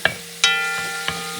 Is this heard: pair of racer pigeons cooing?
no